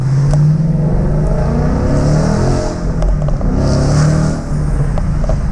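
A 2015 Ford Mustang GT fitted with a Ford Performance exhaust system runs loud and steady, its engine drone holding a low rumble with brief throttle swells, heard close and without any talk.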